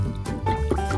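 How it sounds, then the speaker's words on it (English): A paintbrush gets rinsed in a cup of water, giving a quick series of soft sloshes and gurgles close by. "Let's rinse it off again."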